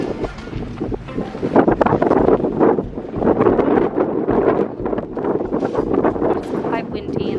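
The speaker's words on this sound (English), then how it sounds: "it's quite windy today" Strong wind buffets the microphone on the exposed crater rim of Mount Fuji, a continuous loud roar with gusty surges, while voices talk over it.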